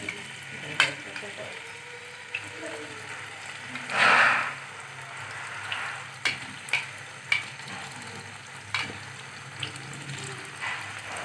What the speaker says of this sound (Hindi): इसमें डालेंगे हम आलू को और इन्हें ज़रा सा रंग चेंज होने तक फ्राई करेंगे।